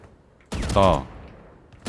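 A single short burst of gunfire in the Valorant tutorial, loud and close. It starts abruptly and trails off into quieter game ambience.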